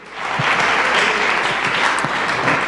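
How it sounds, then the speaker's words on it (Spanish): A church congregation bursts into loud, sustained applause, a dense steady wash of clapping filling the room for a few seconds with no talk over it. "Y dale un aplauso al Señor por eso."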